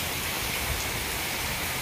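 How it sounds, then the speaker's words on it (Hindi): Heavy rain pours down in the mountains near Maa Ghata Wali in Udaipur, a steady dense hiss filling the air with no breaks and no voices. "सामने तो भाई पहाड़ों पे भयंकर बारिश हो रही है।"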